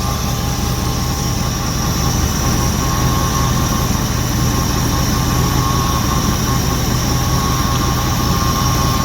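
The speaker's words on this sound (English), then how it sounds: "Yeah, I'm happy with the engine." A 1971 Lincoln engine, revived after sitting dormant for 40 years, idles steadily and loudly with a continuous low rumble and even hum, uninterrupted throughout with no talking.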